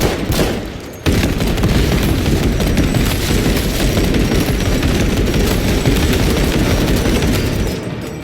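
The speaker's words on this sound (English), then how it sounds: "Grenade." A loud grenade blast in Space Marine 2 kicks off a sustained roar of heavy gunfire and explosions, dense and close, running almost unbroken for several seconds before easing off at the end.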